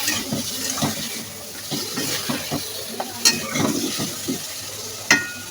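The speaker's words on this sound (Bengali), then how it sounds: "এখন এই মশলার মধ্যে তরকারিগুলো দিয়ে দেবো। তরকারিটা একটু কষিয়ে নেব।" Vegetables are stirred into hot spices in a pan, after fish has been fried and lifted out, producing a moderate sizzle under repeated scraping and stirring knocks, with a couple of sharp clinks and no talking.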